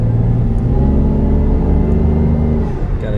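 A Lexus IS300 with a swapped 2JZ-GTE turbo engine pulls hard, its deep cabin rumble building steadily as boost rises for a few seconds, loud and continuous with no talking.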